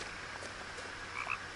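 A frog croaks in a forest in the video game What Remains of Edith Finch, a few short croaks standing out near the end over a steady quiet ambient bed, with no talking.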